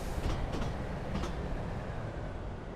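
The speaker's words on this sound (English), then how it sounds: "I hear another train." A train rumbles past in the Running Train video game, giving a loud, steady roar with rhythmic clickety-clack wheel beats early on that fade into a continuous rolling drone.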